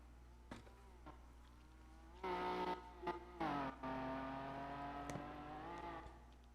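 A small black car's engine in the video game FiveM buzzes and revs in uneven bursts, rising and falling in pitch as it drives past, with faint clicks around it.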